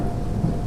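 Thunderstorm with steady rain, a dense low rumble of rolling thunder under continuous wash of rainfall, loud and close throughout with no voices.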